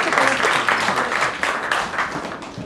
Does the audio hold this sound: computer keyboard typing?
no